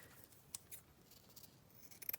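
Scissors trimming paper for decoupaged index cards, heard as quiet, close snips: a few scattered cuts at first, then a quicker run of small snips near the end, over a faint background hush with no talking.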